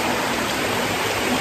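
A small river flows along a forest trail in Canada, its steady broadband rush of water filling the scene evenly and continuously at close range, with no voices over it.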